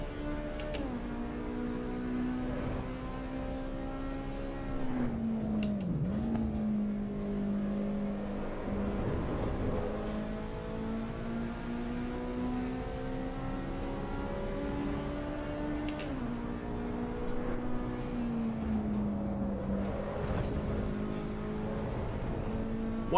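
A Honda S2000 engine in the Assetto Corsa EVO racing game, a steady high-revving tone that dips and climbs again with gear changes, held at constant loudness throughout with no talking.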